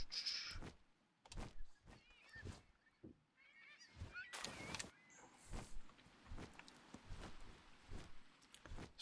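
A slow bird creature in the video game Palworld makes goose-like honks amid sharp clicks, thumps and footstep-like sounds, all fairly faint, with short pauses between the bursts.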